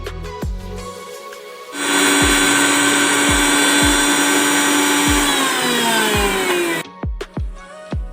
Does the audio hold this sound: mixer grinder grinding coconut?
yes